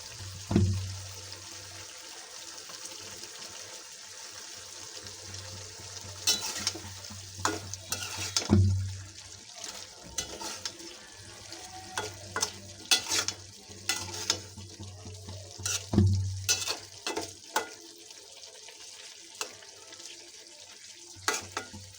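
Ripe tomatoes fry in a pot for a fish and potato curry: a steady, close hiss of sizzling runs throughout, with repeated scraping stirs and occasional louder knocks of the spoon, and no voices.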